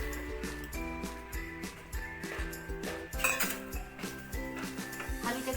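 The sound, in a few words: dry-roasting sesame seeds in a pan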